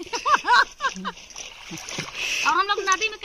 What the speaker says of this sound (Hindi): डब डब ये पीट पीट के नहा रहे हैं